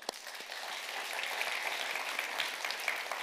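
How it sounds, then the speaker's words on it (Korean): A church congregation at a worship service applauds to encourage its leaders, a steady, even wash of many hands clapping for a few seconds, fairly soft and without talk. "격려의 박수 한번"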